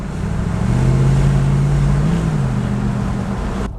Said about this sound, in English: Sounds like a muscle car.